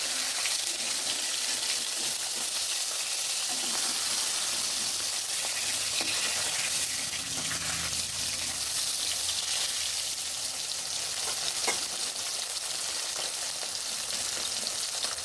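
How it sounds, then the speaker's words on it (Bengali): Carp fish pieces frying in hot oil and being turned over in the pan, a loud dense continuous sizzle and crackle heard up close for the whole stretch, with faint scrapes of turning and no speech. "মাছগুলো উল্টে পাল্টে দিচ্ছি"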